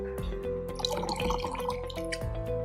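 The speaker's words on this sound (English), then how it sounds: "Now give the probe face a rinse with some fresh tap water." Running water splashes and trickles steadily, with small drips and clinks from a conductivity probe being rinsed under a tap, close by.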